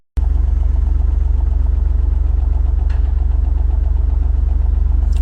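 A Smart car's engine idles with the air conditioning switched on, giving a steady, close low throb with a rhythmic shaking vibration that runs unbroken from start to end.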